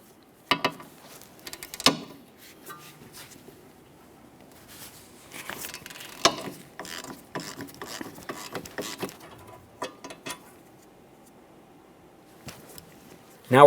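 A ratchet turns a 14mm socket on the rear hub mounting bolt of a 2012-2015 Honda Civic, giving scattered bursts of quick metallic clicks, close and moderately loud, with quiet gaps between.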